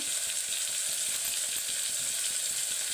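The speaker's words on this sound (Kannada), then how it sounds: "Tomato hockey fry ಮಾಡ್ಕೊಳ್ತೇನೆ." Tomatoes frying in a pan for menthi bath, a loud continuous sizzle with a rapid crackling texture and light stirring taps, close and unbroken.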